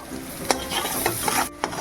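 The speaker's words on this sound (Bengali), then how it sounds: "ডিম ভাজা তেলের মধ্যেই আমি পেঁয়াজ কুচি আর রসুন কুচি দিয়ে দেবো" Chopped onion and garlic sizzle in oil left from frying eggs, a steady close crackle with a few sharp utensil scrapes and taps as the pan is stirred.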